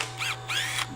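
A power tool whirs in two short bursts while removing bolts from a Subaru or VW car in a garage. Each burst rises and falls in pitch, with a steady low hum underneath.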